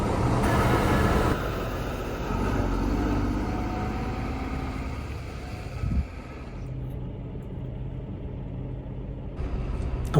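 Vehicle cabin noise while driving along the motorway behind a camper van, a steady loud road and engine rumble that drops in level partway through and then carries on, with no talking.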